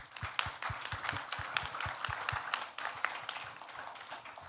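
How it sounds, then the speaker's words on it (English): An audience at a sustainable finance roundtable applauds the panelists in a faint, distant patter of claps with some sharper close hand strikes mixed in. "Please give big round of applause for Mrs. Serena and all distinguished paneli"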